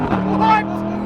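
A supercar engine roars with rising revs as it launches from a standstill, loud and close, tires briefly squealing as it pulls away.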